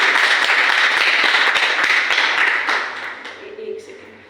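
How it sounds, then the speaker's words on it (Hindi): An audience at a direct-selling company seminar in Delhi claps loudly and densely, the applause fading out toward the end as a voice begins to speak. "तो जोरदार तालियां"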